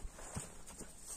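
A racehorse of the Abakan line steps with a few dull hoof clops on the ground, close and fairly soft, with no talking.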